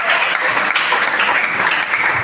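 A church congregation applauds steadily at a Sunday service of praise, a dense, sustained wash of clapping from many hands with no voices standing out.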